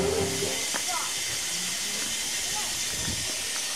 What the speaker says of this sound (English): this valve has steam going through it, and steam shoots by the valve and it sucks the water into the tank injector